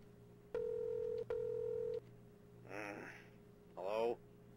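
Telephone dialing in the 90s-style horror video game Rewind or Die: two long beeping tones and then a pair of short warbling electronic chirps, heard clearly and alone against quiet background hum.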